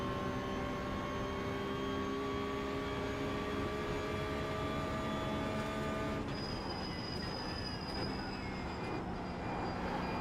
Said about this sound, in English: Oh yeah, the gearbox whine of this car.